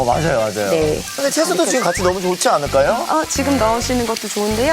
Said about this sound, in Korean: 고기는 처음부터 넣으실 때 조금 센 불에 볶아주시는 게 좋고요